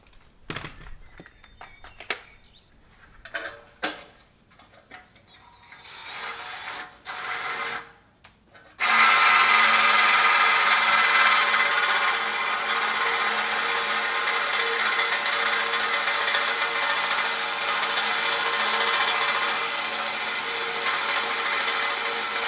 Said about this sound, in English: So the hole saw's cut it away, there's still a slight lip there